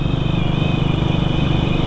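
A Royal Enfield Bullet-style motorcycle engine and aftermarket exhaust drone steadily while riding, with a loud, even thumping rumble and constant wind noise close to the microphone.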